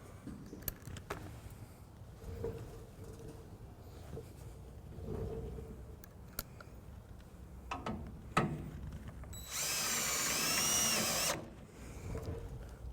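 Power drill driving a screw into a bracket while a wiring harness is installed on a 1996 Chevrolet truck, heard as one loud, close whir lasting about two seconds that follows quieter handling clatter and clicks.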